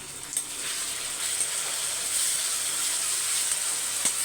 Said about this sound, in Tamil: இப்போ பாருங்கள் வெங்காயம் பாருங்கள் நல்லா ஒரு எயிட்டி பர்சன்ட்டு பொறிஞ்சிருச்சு